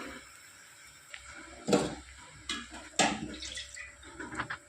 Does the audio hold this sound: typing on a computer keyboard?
no